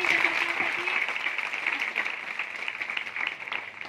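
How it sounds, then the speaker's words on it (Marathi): An audience at a school awareness event for preventing child marriage claps for a student, a sustained, moderately loud patter of many hands that stays steady throughout, with a faint voice underneath. "हिच्यासाठी टाळ्या वाजवा"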